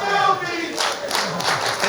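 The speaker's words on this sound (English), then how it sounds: "the chants from the crowd here getting under the skin of Hager" A wrestling crowd chants in rhythmic surges during an MLW match between Jake Hager and Tom Lawlor, loud and roomy. A voice briefly rises over the start before the crowd takes over.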